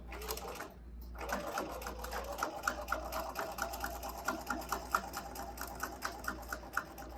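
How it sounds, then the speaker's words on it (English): Sewing machine stitching fabric for a face mask, its rapid mechanical chatter running steadily with short pauses and a brief stop near the start, close up with no talking. "I'm going to leave the needle in and pivot, stitch across just a couple stitches, maybe 3, and then go back down"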